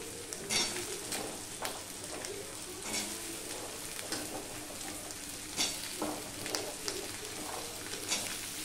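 Green chillies and potatoes go into onions and crushed garlic frying in a pan for a dried loitta fish dish, a soft steady sizzle with occasional stirring scrapes, while pigeons coo nearby.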